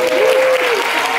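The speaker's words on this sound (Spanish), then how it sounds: "¡Un aplauso para Julio Bracho!" Loud applause from an audience at a television network upfront presentation, a short burst of close clapping with a faint tonal whistle or cheer mixed in.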